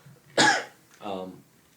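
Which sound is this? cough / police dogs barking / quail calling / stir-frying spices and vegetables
cough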